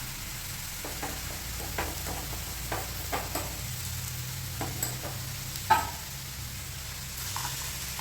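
Tomatoes sauté in a pan for a tomato curry, a steady close sizzle running throughout, punctuated by soft, irregular scrapes and taps of a spatula stirring, one sharper knock midway.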